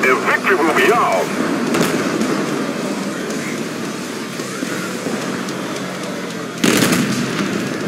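Gunfire and explosions from War Thunder crackle and boom at a distance, with bursts near the start and a sharp blast near the end, beneath a steady din of battle noise.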